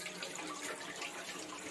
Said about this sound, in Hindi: तो चलो पहले बर्तन ही मांज लेता हूँ